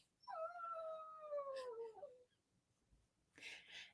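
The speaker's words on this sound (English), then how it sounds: "And then you hear this dog" A dog howls in the background, one long falling wail lasting nearly two seconds, then a brief rustle follows in a quiet room.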